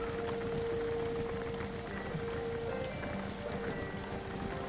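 A car engine in the game Jalopy idles steadily with a constant low hum and a faint whine, continuous and moderately quiet throughout, with no voice over it.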